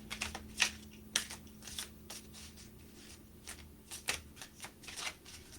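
Tarot cards being shuffled in loose, irregular bursts of crisp riffling and slapping, close and fairly quiet, with a faint steady hum underneath and no talking.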